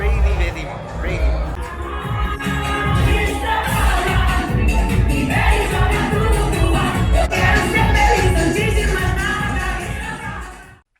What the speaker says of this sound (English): It is crazy busy out here. There's like tons of people everywhere.